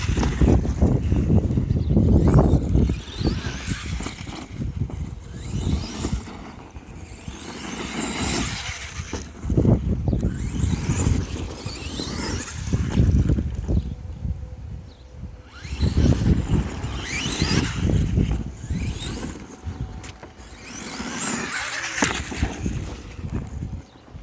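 Traxxas T-Maxx RC truck running outdoors after a conversion, its motor buzzing in loud bursts that rise and fall over about 24 seconds, with strong wind rumble on the microphone.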